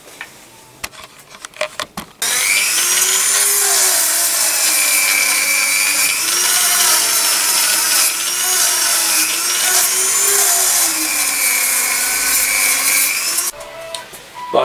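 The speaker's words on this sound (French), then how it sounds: "Ponçage." A Dremel rotary tool sands a handmade wooden claw, a loud continuous high whine with shifting pitch as the bit bears on the wood, preceded by a few clicks and taps and ending abruptly.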